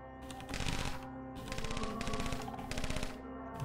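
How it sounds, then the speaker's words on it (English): A chain gun turret in the game Caves of Qud fires rapid bursts of shots, several loud rattling volleys separated by short pauses, close and dominant with no talk over it. "there is a chain gun turret here"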